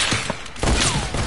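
A sniper no-scope shot in a video game, a single punchy blast with a following whoosh and tail, preceded by faint clicks, fairly loud and close with no talking over it.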